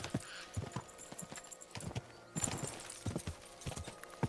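Horse hooves clip-clopping in Kingdom Come: Deliverance II, a steady rhythmic run of close, fairly loud hoofbeats with a brief lull partway through before they resume.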